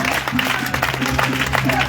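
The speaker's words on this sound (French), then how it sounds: "Une bonne acclamation pour le frère Isaac." A church congregation applauds and cheers for a brother during worship, with a busy crowd clatter of clapping over a low sustained hum and some voices mixed in.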